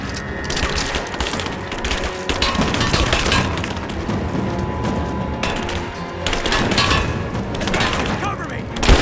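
Gunfire and explosions from the video game Rise of the Tomb Raider fill the clip as a dense, loud, continuous barrage of shots and blasts, with bursts rising near the end and voice-like game chatter mixed in.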